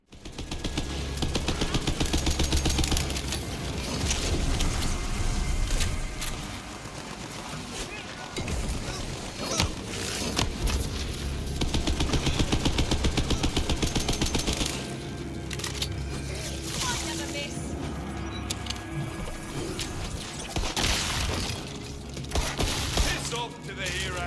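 Dense gunfire and explosions in the looter-shooter game Tiny Tina's Wonderlands, rapid machine-gun bursts and booming blasts continuing loudly throughout, with a voice talking over the combat.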